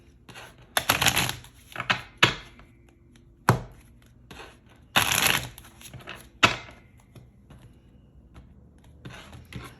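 Tarot cards shuffled for a reading: a series of brisk, close riffling and tapping bursts with short pauses between, fairly quiet and without talk.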